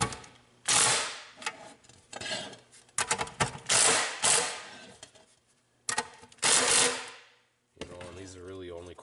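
Bolts being tightened on a John Deere corn planter seed meter, with repeated ratcheting clicks in several bursts and brief pauses between them, close and fairly loud.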